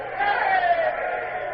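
A crowd of sailors aboard a warship cheering and shouting together at a distance, a sustained jumble of voices rising and falling without a break.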